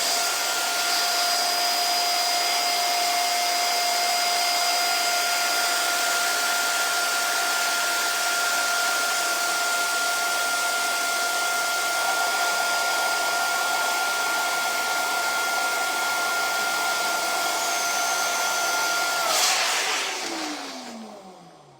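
An electric air pump blows a balloon up in one long, loud, steady roar close by, running for about twenty seconds before it shuts off and winds down.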